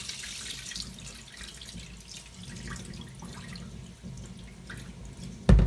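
Water draining off rinsed rice into a sink, a soft continuous trickle and splash with faint drips, ending in a sudden louder clunk.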